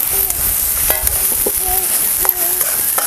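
Tomatoes, chopped red amaranth stems and spices with turmeric, onion-garlic masala and salt sauté in hot oil, giving a bright steady sizzle near the pan with a few sharp utensil knocks and scrapes. No one speaks.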